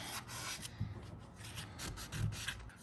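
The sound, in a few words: sanding truck paint with 400 grit sandpaper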